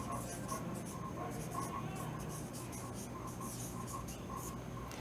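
Chalk or a marker scratches across a classroom board as a teacher writes, giving short repeated strokes in a quick irregular rhythm under a steady, faint room background.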